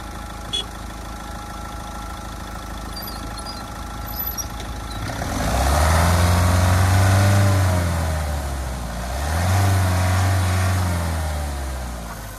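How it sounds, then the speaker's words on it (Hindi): The diesel mHawk engine of a 2023 Mahindra Thar LX hard top 4WD swells from a steady idle into two loud, close revs up to about 4000 rpm, each easing back down, with no talking. "तीन से 4000 आरपीएम तक रेव किया गया था ये"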